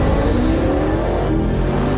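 A Porsche Cayenne Electric plays a simulated roaring engine sound, a loud, steady, low rumble with a throaty tone that holds throughout, close and without talk.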